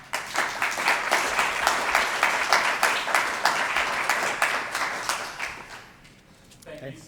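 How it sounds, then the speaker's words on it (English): Conference audience applause fills the room with dense, steady clapping that holds for several seconds and then fades away, with voices faintly mixed in. "So can we just give him a round of applause?"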